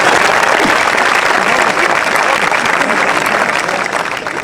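Loud, dense applause from the audience at a kavi sammelan and mushaira poetry gathering, sustained and tapering slightly at the end.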